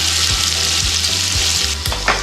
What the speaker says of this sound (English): while I'm waiting for the bacon to get rendered